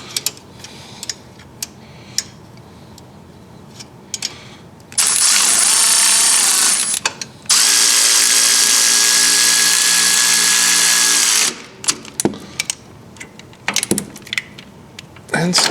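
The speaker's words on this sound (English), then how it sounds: "You don't necessarily have to have a battery powered ratchet, but a regular ratchet will do." A powered ratchet spins bolts tight on the spring mounts of a 2018 Polaris Sportsman 570 EPI ATV, giving two sustained close whirring runs of several seconds each between quieter clicks and handling noise.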